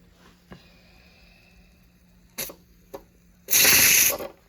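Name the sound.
pressure canner releasing steam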